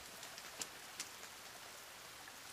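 Steady rain hisses in the video game The Forest, a soft, even wash with a few faint drop ticks and no voices.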